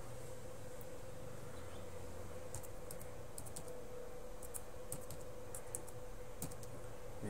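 Someone types a name on a computer keyboard while registering a user: quiet, light key clicks in small irregular clusters over a steady low background hum, with no talking.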